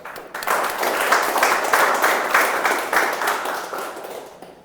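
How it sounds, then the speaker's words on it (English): A roomful of people at a speaking club meeting gives a speaker a round of applause, dense overlapping clapping that swells quickly, holds steady, then tapers off near the end. "big round of applause for her"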